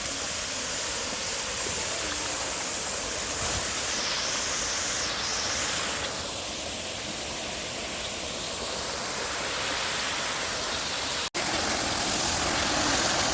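Water flowing in a small forest stream in Kerala, a dense, steady broadband rush heard close up with no talk, running continuously with a brief dropout near the end.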